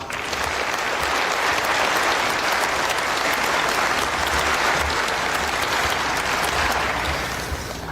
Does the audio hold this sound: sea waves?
no